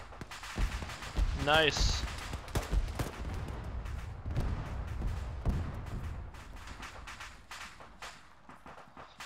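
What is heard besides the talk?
gunfire in a video game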